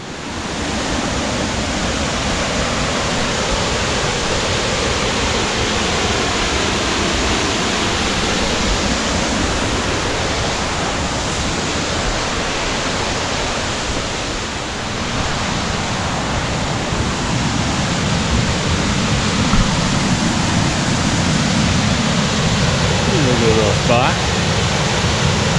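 River water from the Five Ponds Wilderness pouring over High Falls near Wanakena, New York, a loud steady broadband rush close by that persists throughout, with a voice talking over it.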